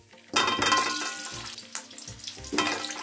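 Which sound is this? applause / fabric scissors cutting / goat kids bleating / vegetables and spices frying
vegetables and spices frying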